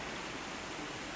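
Water flows steadily in Brown River Creek, a continuous broadband rush that stays close and even throughout, with no voices over it.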